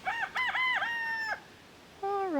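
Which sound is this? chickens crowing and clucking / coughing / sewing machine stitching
chickens crowing and clucking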